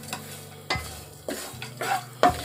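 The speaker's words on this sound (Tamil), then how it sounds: "சும்மா இதை லைட்டாக அந்த சூடுலேயே பெரட்டி எடுத்துக்கலாம்." A spoon scrapes through grated cashews and almonds in hot ghee in quick, repeated strokes over a faint, soft sizzle.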